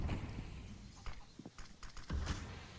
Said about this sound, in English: and now they hear the footsteps.